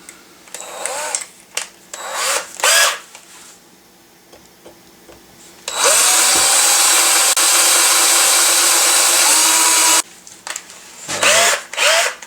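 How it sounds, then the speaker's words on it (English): A power drill whirs steadily for about four seconds, loud and close, bracketed by clicks, knocks and handling noises. "So first of all, we're going to drill this,"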